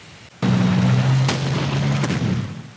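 An anti-tank gun fires in the Battle Academy 2 Eastern Front war game: a single loud boom with a sustained rumbling tail, then a second sharp crack about a second and a half later.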